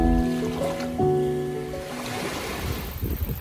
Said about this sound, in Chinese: 海邊嘅浪拍打埋嚟都幾好聽